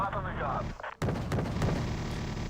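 Mortar fire in a strategy video game tournament match lands as a sudden heavy boom with rumbling follow-up thuds, while someone talks over it.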